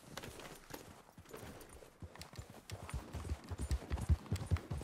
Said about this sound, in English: Well, let's take our horse.